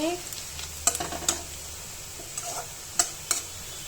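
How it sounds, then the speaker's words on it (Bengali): Onion, bay leaf and garam masala fry in a pan, giving a soft continuous sizzle broken by a few sharp taps and scrapes of a stirring spoon, close by, with no talking. "পেঁয়াজ তেজপাতা গরম মশলা ভেজে নিচ্ছি"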